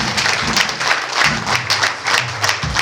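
Steady, dense applause from a crowd at a church wedding ceremony, loud and continuous for the whole stretch with no talk over it.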